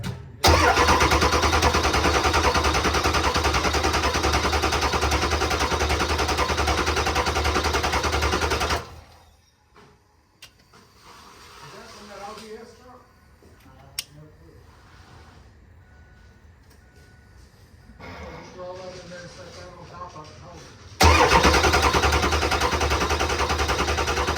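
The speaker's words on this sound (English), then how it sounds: "we're gonna crank the truck up. It's gonna be a little bit of a long start" A Ford 7.3 diesel truck engine with its valve cover off, running rough and loud, shuts down. After a quiet gap of intermittent starter cranking and clatter, it fires again and settles into a steady, loud idle.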